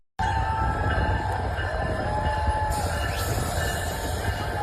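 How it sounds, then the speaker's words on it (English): CPKC holiday train rolling into Sudbury, a steady loud rumble of rail cars on track with a faint high wheel squeal appearing partway through, no voices. "the CPKC holiday train rolled into Sudbury last night."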